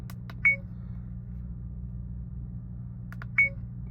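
Two short electronic beeps from an AZDOME dash camera, each a quick click followed by a tone, spaced a few seconds apart over a steady low hum.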